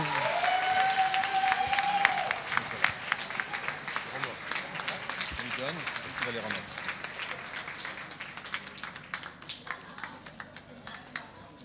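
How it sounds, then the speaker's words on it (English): A ceremony crowd applauds prize winners at a negotiation competition final, with loud dense clapping at first that gradually thins and softens, a brief whistle early on and scattered voices underneath. "On les applaudit bien fort."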